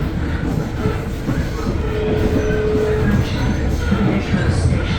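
A commuter train on the upgraded Pretoria to Saulsville railway picks up speed, a loud, steady rumble of wheels and carriage noise heard from inside the train, with a faint squeal and no clear talking.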